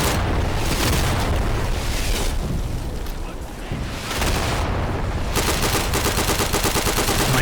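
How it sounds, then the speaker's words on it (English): Dense, loud bombing explosions and sustained gunfire roar almost without pause in the tactical shooter Insurgency: Sandstorm, with a brief dip midway before the barrage resumes. "this bombing is destroying me right now"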